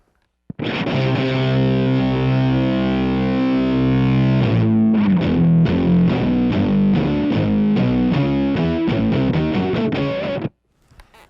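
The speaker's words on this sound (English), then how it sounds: "this noise knob actually acts like more of a synth-like effect" Distorted, synth-like guitar tone from an EMMA Electronic Okto-Nøjs dual octave pedal, a thick octave effect, a long sustained chord first, then a busy run of choppy notes before it cuts off.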